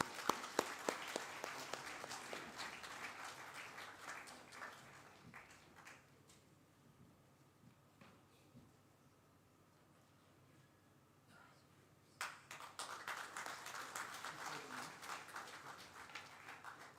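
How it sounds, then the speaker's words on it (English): Audience applause at a school felicitation ceremony: dense clapping at the start fades into a quiet stretch, then a fresh burst of clapping resumes near the end. "a big round of applause"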